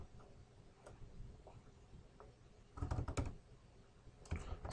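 Keystrokes on a computer keyboard while entering router commands in a network simulator, faint scattered taps and a few louder clustered bursts of typing, close and quiet with no talking.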